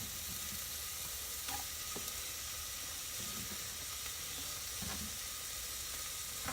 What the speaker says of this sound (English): I hear it sizzling. And then throw those onions in there and saute them.